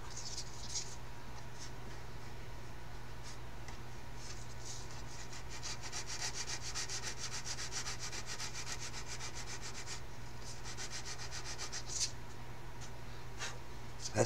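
A sanding stick scrubs steadily over the plastic of a 1/32 scale OS2U Kingfisher model kit, a soft continuous rasping rub close by, faint and unbroken against a low background hum.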